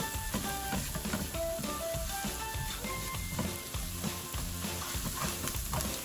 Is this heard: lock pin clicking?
no